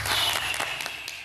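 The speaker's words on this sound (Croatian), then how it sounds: "Sasvim razumljivo da vi dobijete ovde aplauz." Studio audience on a New Year's special of a quiz show breaking into steady applause, dense clapping at full volume throughout the short burst with no talk over it.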